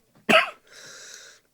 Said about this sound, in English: I've got a little bit of a cough at the moment